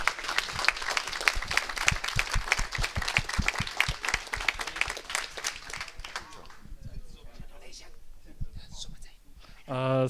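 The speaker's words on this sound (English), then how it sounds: "Can we get a huge round of applause for the hotel and their phenomenal staff?" An event audience gives the hotel staff a round of applause, with crisp, individually distinct claps ringing out for about six seconds before fading to scattered claps and murmuring, and a voice speaking at the very end.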